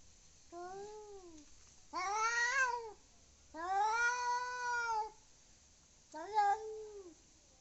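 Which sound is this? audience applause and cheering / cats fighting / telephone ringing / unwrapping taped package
cats fighting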